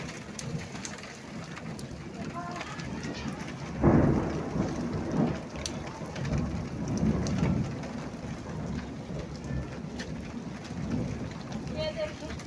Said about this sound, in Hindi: बहुत तेज धमाकेदार बारिश हो रही है।